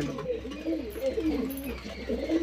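Pigeons coo in a continuous overlapping chorus of low, throaty, rolling calls, close by and steady throughout with no talk, from a flock kept by a bird keeper.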